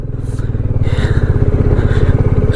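A motorcycle rides a cloudy, cold mountain road toward Darjeeling, its engine a steady close rumble with a pulsing throb that holds throughout.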